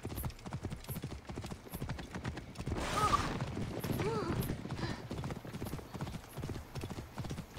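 In Assassin's Creed Origins, a horse's hooves clop rhythmically and close by for several seconds, while a louder burst of rushing, clattering game noise swells partway through.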